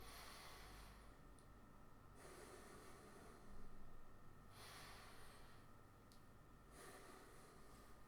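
Slow coherent breathing, a deep inhale followed by a long exhale repeated in alternating phases, soft and close with an airy hiss and no talking.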